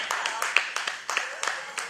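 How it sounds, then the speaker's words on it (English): A small audience claps for a woman in rhythmic, moderately quiet bursts of individual claps, with a voice talking over them. "Y'all clap it up for her."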